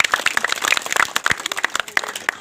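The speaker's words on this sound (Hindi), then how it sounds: "ताली बजा दो सब" A small audience at a street magic show claps in quick, irregular bursts of individual hand claps, close and fairly loud, with a sparse crowd feel and no voices over it.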